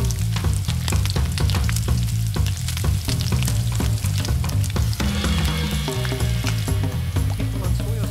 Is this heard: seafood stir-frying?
yes